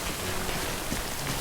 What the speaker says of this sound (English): Because it started to rain and I was most definitely ill prepared.